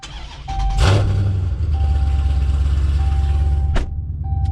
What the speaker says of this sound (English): I wanted to give you guys this quick exhaust clip because I will definitely miss this.